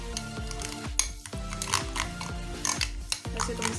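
A thick spice masala with finely chopped ingredients, for grilled fish, is mixed in a bowl, producing a rapid run of ringing metallic clinks and knocks from a spoon striking the container, close up and without speech.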